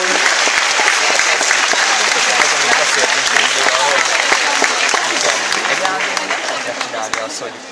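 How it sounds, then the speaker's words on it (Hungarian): Loud, sustained applause from an audience at a costume award ceremony, honouring the dressmaker, with dense clapping filling the room and slowly tapering toward the end. "Úgyhogy egy nagy tapsot a varrónőnek is."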